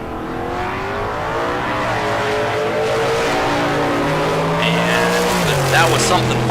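Drag race cars, a 1972 Chevelle and a 1988 Mustang, at bracket races: loud steady engine roar with rising and falling revs, a tire squeal near the end, under a track announcer talking.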